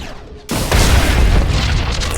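Flux cannons blast and destroy a capital ship in a space battle: after a brief quiet lead-in, a sudden loud boom erupts into a sustained, rumbling roar of explosion that carries on heavily to the end.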